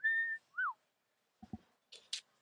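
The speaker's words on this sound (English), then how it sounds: "I just whistled in your ear." A person whistles two short tones close by, a held note and a quick rising-falling one, followed by a few faint clicks and brief scrapes at a bowling event.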